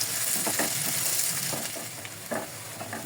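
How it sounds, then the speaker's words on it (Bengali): Onions frying in a pan until soft and translucent, a steady close hiss broken by scattered scraping stirs, alone without speech. "পেঁয়াজগুলোকে একদম সুন্দরভাবে নরম হয়ে আসা পর্যন্ত বা ট্রান্সপারেন্ট হয়ে আসা পর্যন্ত ভেজে নিব"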